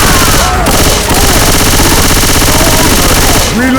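Continuous automatic gunfire in Left 4 Dead 2 as players shoot at the Tank, loud rapid bursts with overlapping weapons and no pause.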